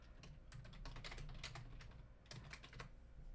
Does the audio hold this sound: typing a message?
yes